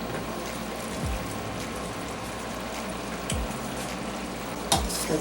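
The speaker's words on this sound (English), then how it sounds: "You can see the chicken was cooking in the juices here." Chicken sizzles in its own juices in a pot, a continuous bubbling fry held at a steady level, with a few soft thuds and a clink near the end.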